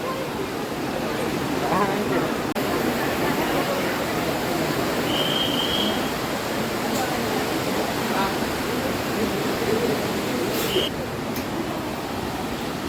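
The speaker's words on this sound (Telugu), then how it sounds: "ఎప్పుడు వచ్చినా ఈ నీళ్లు ప్రవహిస్తూ ఉంటుంది" River water flowing beneath a temple bridge near Mangalore, a constant dense rushing wash heard close and loud, with occasional faint voices and small bursts over it.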